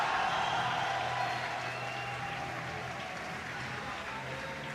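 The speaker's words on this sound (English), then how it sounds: "Applaudissements pour les Optic Gaming!" An audience at the ESWC Paris esports championship applauds a team, a steady wash of clapping and crowd noise that fades slightly, heard at moderate volume from within the venue.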